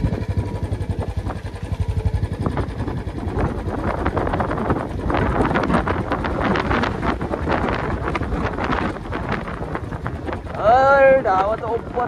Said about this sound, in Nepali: हावा त ओभर आइरहेको छ